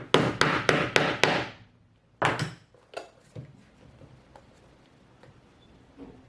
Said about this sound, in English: now this will get whacked with my mallet